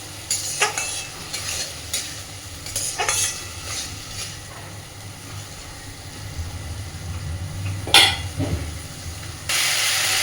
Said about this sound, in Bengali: এবার খুব সুন্দর করে মশলাটাকে আলুর সাথে কষিয়ে নেব।